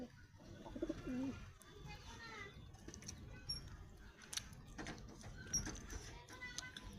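Pigeons coo and call against steady background noise, with a few low, rounded calls near the start and scattered bird sounds and clatter continuing throughout; some speech-like voices may mix in.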